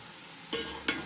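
Kewra water hits hot, dry carrot halwa in a pan with a soft sizzle, followed by a sharper burst as it is stirred in.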